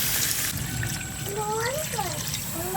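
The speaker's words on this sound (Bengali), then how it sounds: "জল দিয়ে দিচ্ছি।" Water poured into a cooking pot of mutton curry, a close, continuous splashing gush with gurgling tones as the level rises, with a faint voice in the background.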